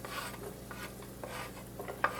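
Onions and garlic stirred over very low heat in a pot for a cauliflower soup, a quiet scraping stir with faint sizzling and a few soft clinks of spoon against pot, one sharper tap near the end.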